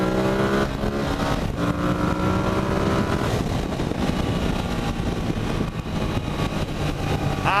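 A 2016 Ducati XDiavel S motorcycle at wide-open throttle, its engine roaring loud and close with rising revs, shifting pitch partway through and carrying on under heavy wind rush.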